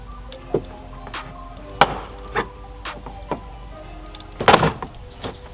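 A flathead screwdriver pries a plastic side reflector out of a Toyota Supra bumper, giving sparse, close clicks and sharp knocks with quiet gaps between them and no voices.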